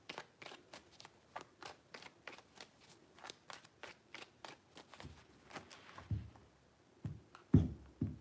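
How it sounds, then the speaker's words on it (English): Tarot cards shuffled by hand in a quiet room, a rapid, steady run of crisp riffling flicks, close and fairly soft, with a few louder taps and knocks near the end. "Three shuffles."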